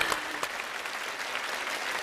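Studio audience on a Chinese challenge game show applauding steadily, a dense even wash of clapping with a couple of sharper claps near the start, moderately loud throughout.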